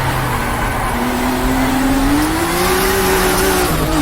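In a racing video game, the rear tires spin and squeal under a loud, continuous engine whine whose pitch climbs steadily and then eases off near the end.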